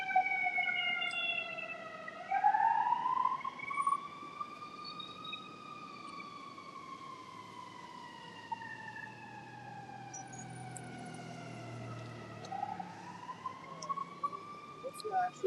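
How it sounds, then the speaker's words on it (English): An ambulance siren passes on a Chicago street, wailing in slow rising and falling sweeps that start loud and close, then drift and soften over about fifteen seconds above low street noise. "mute the mic while the ambulance comes by."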